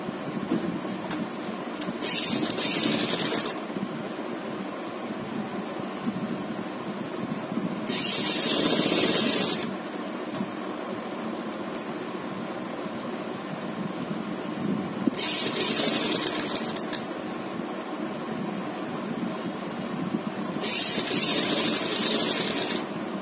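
A sewing machine stitches a diagonal bias strip along a neckline to form piping, running in four separate bursts of a few seconds each with steady quieter gaps between, no voices.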